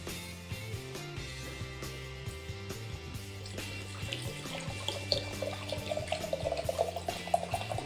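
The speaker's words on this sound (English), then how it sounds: "So I'm going to pour the Blanco tequila and then the Reposado tequila into 2 mason jars each." Blanco tequila pouring from a bottle into mason jars, a steady trickling, gurgling liquid stream heard close up and continuing throughout without talk.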